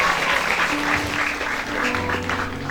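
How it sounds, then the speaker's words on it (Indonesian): Guests applaud at an Indonesian wedding reception, a steady broad wash of hand clapping filling the room throughout with faint background music tones underneath. "Kasih tepuk tangan ke Bapak Ibu sekalian."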